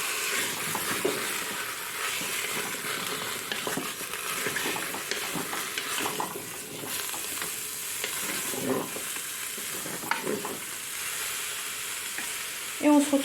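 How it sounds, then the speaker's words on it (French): Merguez sausages, pork shoulder and carrots browning together in a pan make a steady, loud sizzle and crackle, with occasional stirring scrapes and no talking. "Là, on vient de finir de dorer la viande avec les merguez et les carottes."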